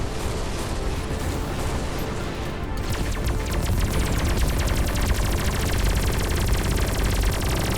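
Flak cannon fire in the space shooter Everspace 2 makes a loud, continuous barrage of rapid bursting shots and explosions, a dense wall of gunfire that runs the whole stretch with no voice heard.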